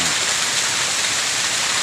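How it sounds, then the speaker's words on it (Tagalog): Very heavy rain pours down in a dense, even hiss, loud and unbroken throughout, with no voices over it. "napakalakas na ulan guys"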